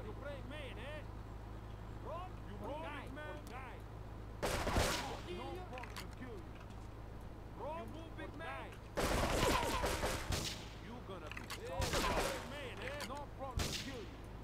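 Gunfire in Grand Theft Auto 3 comes as several sharp bursts of shots spread through the scene, loud against steady engine-like game noise, with voices talking in between.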